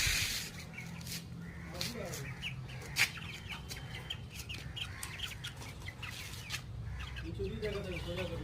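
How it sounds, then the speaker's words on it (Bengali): Sonali chickens, a month-old golden breed now grown large, cluck softly in a rural yard amid chirping birds, with scattered short calls near and far and a faint background murmur. "এটা হচ্ছে সোনালী মুরগি। এটা 1 মাস আগে নিয়েছিলাম, এখন অনেক বড় হয়ে গেছে।"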